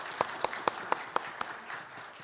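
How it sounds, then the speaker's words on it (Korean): A church congregation claps in a steady rhythm, sharp individual claps spaced evenly over a soft bed of scattered applause, moderately near. "우리 박수로 맞아 주시기를 부탁합니다."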